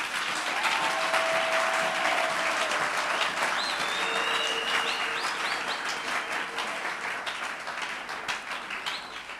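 A church congregation applauds for Jesus in sustained, dense clapping that fills the room, with a few cheers and whoops rising over it before the applause slowly tapers toward the end.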